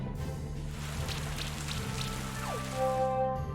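Level 2 acid rain attack in the video game Monster Sanctuary, a steady hissing patter of rain effects over a low droning game tone, with a brief rising chime near the end.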